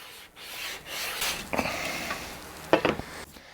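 Wood guitar part, a headstock being flattened, rubbed across 220 grit sandpaper on a 16-inch radius block held upside down in a vise, giving a few brief scraping strokes with pauses between them, fairly close.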